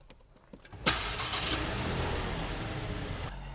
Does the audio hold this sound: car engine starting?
yes